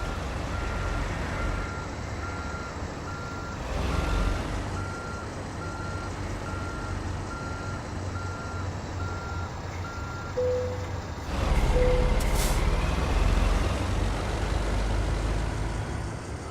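Steady truck reversing beeps from a GTM T800 truck mod in American Truck Simulator, repeating at an even pace over a low engine rumble, with a sharp air-brake hiss near the end.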